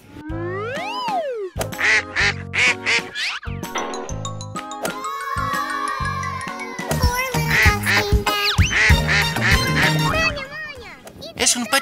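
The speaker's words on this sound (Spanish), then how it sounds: "Es un patito. Es un pequeño patito." Repeated quacking from a duckling, bright and close, in short bursts with brief pauses, with people's voices chattering over the middle and later parts.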